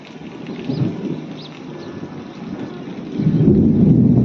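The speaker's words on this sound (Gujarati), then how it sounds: "કેવો ગાજે છે" Thunder rumbles low and heavy during a rainstorm near a river, swelling briefly, easing off, then rolling in louder and sustained toward the end under steady rain and wind noise.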